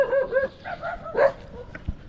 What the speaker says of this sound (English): This is where I gotta get past the dogs.